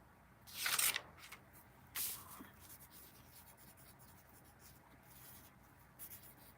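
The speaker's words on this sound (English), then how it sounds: "So I'll have to write that one down." Pen or pencil writing a note by hand; soft scratching strokes, with a couple of louder rustling bursts near the start and faint, quiet scribbling afterward, no talking.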